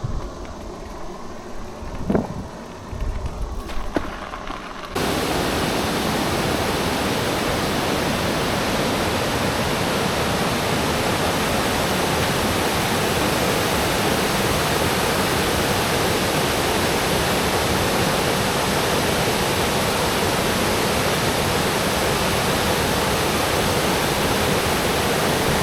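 After a few seconds of quieter ambient noise, a loud, steady rush of flowing water from Deckers Creek, West Virginia, takes over and continues unbroken.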